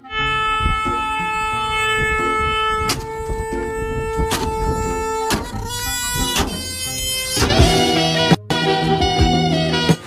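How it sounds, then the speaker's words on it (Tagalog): A loud novelty vehicle horn blares a long, sustained multi-tone melody that shifts pitch in steps, continuous for the whole stretch with one brief cutoff near the end. "Wow, ang angas naman ng busina na yan."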